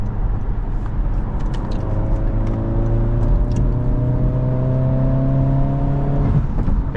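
A Honda Civic Si with a turbo drives steadily, its engine droning and rising in pitch as it accelerates, with a turbo whine sweeping upward beneath road noise inside the cabin.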